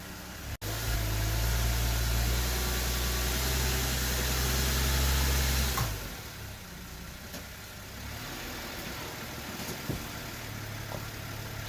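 A car climbs an obstacle on a level-ish concrete floor with its rear sway bar attached, a loud steady engine drone for about six seconds after a sharp click, then dropping to a quieter idle with faint knocks.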